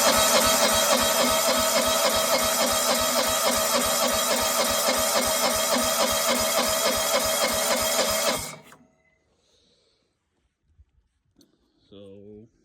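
A John Deere 165 Hydro lawn tractor engine cranking with a suspected intake valve problem: loud, rapid, even chugging of the starter for about eight seconds, then it cuts off to near silence and a voice speaks briefly.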